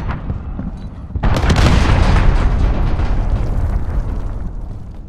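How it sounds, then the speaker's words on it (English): Cruise missile strike in Call of Duty: Modern Warfare multiplayer: after a brief lull, a massive close explosion erupts into a long roaring, rumbling blast that slowly decays over several seconds. "cruise missile. Take cover."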